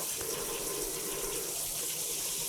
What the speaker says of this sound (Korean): 메주를 살짝 흐르는 물에 이렇게 슬슬슬슬 빨리 씻어줘야 돼요